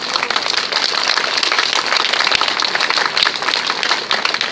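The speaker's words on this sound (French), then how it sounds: "je vous demande d'applaudir chaleureusement les" An audience at an antifascist gathering applauds the Senegalese tirailleurs warmly, loud close clapping with sharp individual claps standing out of a busy, sustained ovation.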